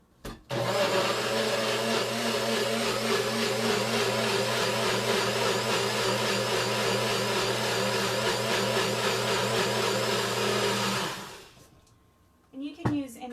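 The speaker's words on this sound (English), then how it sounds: "And you can use any blender you have." A countertop blender whirs loudly and steadily for about ten seconds while mixing a spicy avocado dressing, then winds down and stops, followed by a few clattering kitchen sounds.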